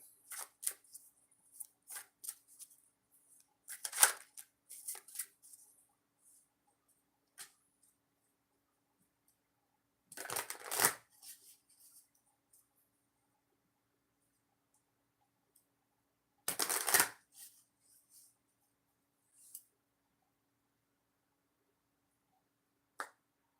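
Short bursts of oracle cards being shuffled, crisp riffling rattles separated by long quiet gaps, with scattered small clicks and taps.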